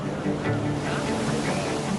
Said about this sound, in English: When the waves come, when the swell comes, the wave breaks really, really violently.